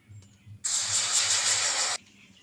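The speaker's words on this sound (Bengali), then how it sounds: "কড়াইয়ে দিয়ে দিচ্ছি এবার জল।" Water poured into a hot wok set over a lit stove, a sudden loud hiss that lasts about a second and a half and then cuts off, with quiet background before and after.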